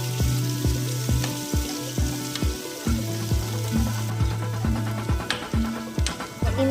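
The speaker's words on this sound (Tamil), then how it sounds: "பொடி பொடிசாக வெட்டின ஆனியன் சேர்த்து நல்லா ஃப்ரை பண்ணிக்கோங்க." Finely chopped onion fries with curry leaves and garlic in a pan, a continuous near sizzle overlaid by regular, evenly spaced low thumping pulses throughout, with no voices.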